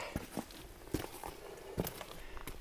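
Footsteps crunch over loose rocks on a desert hiking trail, a slow, uneven series of about six soft scrapes and crunches, fairly faint and close, with no voices.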